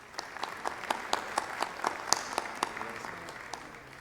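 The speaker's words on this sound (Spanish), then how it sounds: "para quien pido un fuerte aplauso." An audience applauds a government minister at the opening session of a conference in Paraguay, sparse, fairly quiet claps with distinct individual hand strikes standing out in a light, uneven patter.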